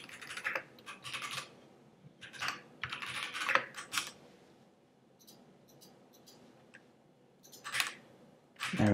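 Someone types on a computer keyboard while building a Shopify theme, with quick bursts of close key clicks broken by short pauses and a louder final press.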